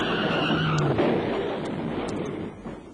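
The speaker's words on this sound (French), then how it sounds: "Elle glisse et tourne sur elle-même, comme une folle, jusqu'à l'issue fatale." Tyres of a small blue car skid and screech as it spins out on a wet road, a steady loud hiss of sliding rubber with a brief squeal early on that fades slightly toward the end.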